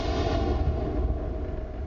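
A synthesized explosion from the Explodomatica sound generator rolls out as a loud, sustained low rumble with crackling texture, steady over nearly two seconds and heard alone.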